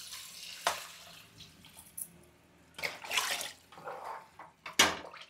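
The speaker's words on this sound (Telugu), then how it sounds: "ఇప్పుడు దీంట్లోకి నీళ్ళు పోసాం" Water poured into a pot of coriander rice in a home kitchen, a few separate close splashing gushes between quieter gaps, with faint clinks and no talk.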